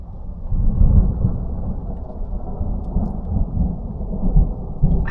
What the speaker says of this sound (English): This has been hands down the wildest storm I've ever driven through or been a part of.